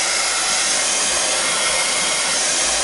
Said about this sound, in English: Just wanted to dry that up really quick because it was feeling awful wet with that glue and the paint.